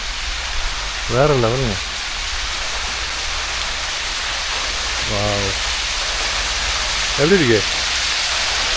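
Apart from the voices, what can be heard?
waterfall at Wadi Shees, UAE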